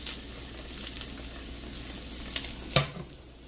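French toast frying in oil in a pan, giving a quiet continuous sizzle with light stirring and a couple of sharp clinks near the end.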